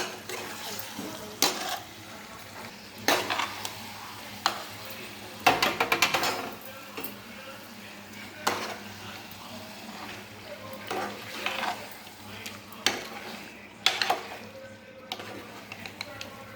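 Chicken pieces with ginger garlic sizzle in a pan while a spoon clatters and scrapes against the metal in bursts, a soft steady frying hiss running beneath, close and unaccompanied by speech.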